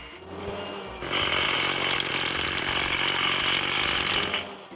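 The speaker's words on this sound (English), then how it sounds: "Let's crack the biggest rocks." Hydraulic hammer breaking big rocks in a children's truck video game, a loud rapid mechanical rattling hammering that kicks in after a second and pounds steadily before cutting off near the end.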